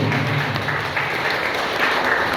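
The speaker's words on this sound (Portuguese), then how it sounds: "Dá um aplauso aí para o Marcelo e Viviane." An audience at a Baptist church ceremony for a marriage course applauds a couple, loud sustained clapping from many hands filling the room evenly throughout, without speech on top.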